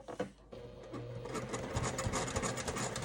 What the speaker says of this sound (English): you're just gonna stitch across it without the D-ring